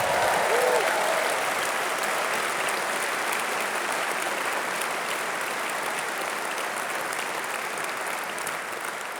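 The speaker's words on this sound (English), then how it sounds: "Give yourselves a clap." A large hall of party members at a Liberal Democrat autumn conference rally breaks into sustained applause, loud at the start and fading slowly as the clapping continues steadily to the end.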